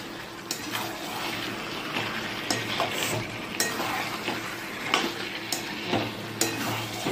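Chicken kosha stir-fries in a pan, a steady close sizzle under repeated scraping and stirring strokes from a spoon, with periodic louder scrapes and no one speaking.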